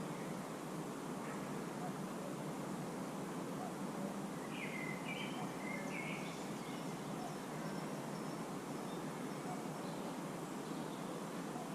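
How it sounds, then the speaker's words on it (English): Faint, scattered bird chirps come through over a steady broadband hiss of wind or distant surf, with long gaps between calls. "I'm just gonna shut up for a second and listen to the birds."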